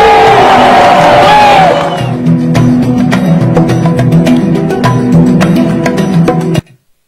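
A crowd at a solidarity rally for activists arrested in Côte d'Ivoire cheers and shouts loudly, with the roar easing after a couple of seconds into sustained applause and scattered whoops until it cuts off abruptly.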